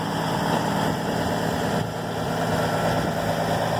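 A broken-down vehicle's motor with an oil leak idles nearby, producing a steady, loud, low rumbling drone with constant vibration and no breaks.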